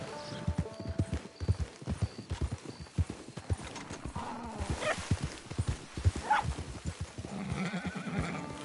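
Horse hooves clip-clop in Red Dead Redemption 2, a steady walking rhythm of close, crisp hoofbeats over a low ambient bed, with a brief whinny and no talking.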